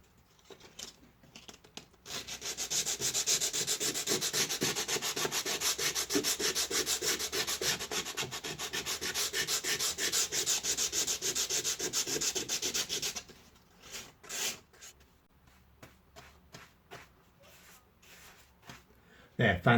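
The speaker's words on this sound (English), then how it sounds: "it's really important just to give the wall a bit of a sand as well" Continuous rapid scratchy rubbing of sandpaper across a painted wall beside a window sill, loud and close for about eleven seconds, then stopping, followed by lighter scrapes and handling sounds.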